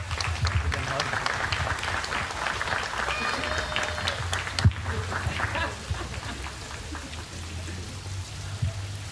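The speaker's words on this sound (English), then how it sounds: "How about a round of applause for Glenn, everybody?" Audience applause in a room, a soft steady patter of many hands under a murmur of voices, fairly distant and even throughout.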